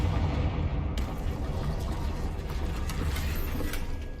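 A Confringo fire-blast spell in Hogwarts Legacy bursts in after a short lull, then a loud, dense roar with crackling, clattering bits runs on for several seconds, no voices over it.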